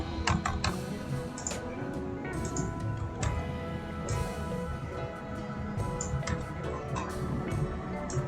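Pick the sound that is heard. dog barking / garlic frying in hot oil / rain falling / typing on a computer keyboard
typing on a computer keyboard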